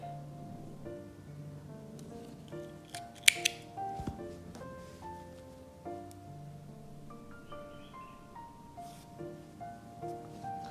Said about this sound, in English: When you get to the end of the row, you just need to chain one and cut your yarn.